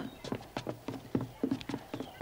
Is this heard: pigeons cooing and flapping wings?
no